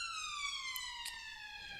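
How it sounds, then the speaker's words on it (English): A police siren passes outside, its sweeping wail with strong stacked harmonics sliding slowly downward in pitch, steady and fairly loud throughout with no talk over it. "apologies for the siren"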